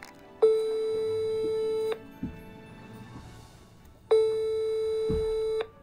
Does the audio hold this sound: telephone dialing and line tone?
yes